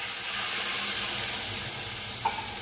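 Masoor dal lentils go into hot mustard oil with fried onion for Bengali peyaj sambara dal, giving a steady loud sizzle and hiss that runs throughout, with a small clink near the end.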